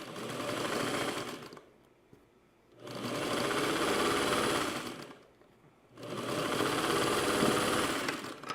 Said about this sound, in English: I'm just going to go right back to sewing on the leader and ender